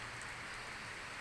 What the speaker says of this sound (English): Thank God it's raining.